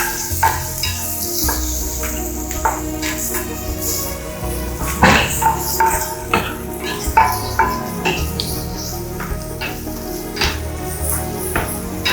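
Chopped onions tumble into a hot pan and fry with a steady close sizzle, punctuated by scraping stirs and occasional utensil clinks, with no voices over it.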